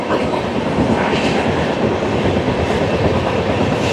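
The Garib Rath Express from Agartala to Kolkata runs near Jangipur Road, giving a loud, steady rumble of rolling wheels and rail noise, heard from close by with no voices.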